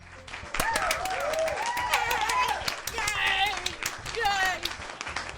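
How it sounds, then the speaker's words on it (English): A small group applauds a poem recitation in the visual novel Doki Doki Literature Club Plus, a short stretch of light clapping heard under a speaking voice. "The 4 of us applaud."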